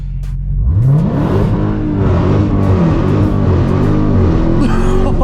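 A RAM TRX pickup's supercharged engine revs hard during a factory line lock burnout, a loud rising roar climbing through repeated surging pulls, with tire noise building close by.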